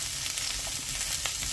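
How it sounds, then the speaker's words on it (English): Vegetables sizzle and crackle in hot oil, a steady close frying hiss with small pops. "So I have these veggies just kind of frying up"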